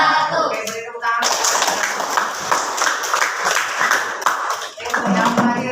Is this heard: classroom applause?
yes